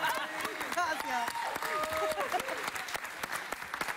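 A studio audience on a Spanish-language TV variety show claps in sustained applause, with a voice talking over the clapping throughout.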